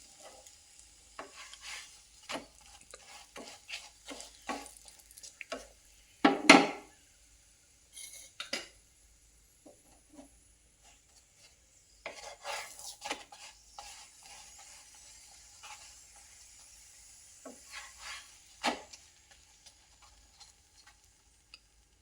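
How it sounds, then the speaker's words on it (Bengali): A paratha frying in a little oil in a pan gives quiet, intermittent crackling and sizzling, with scattered clicks and scrapes of a utensil against the pan and a few louder clatters, over long stretches of near silence and no talking. "তো আমাদের পরোটাটা প্রায় ভাজা হয়ে গেছে, এবার আমরা এটাকে তুলে নেব।"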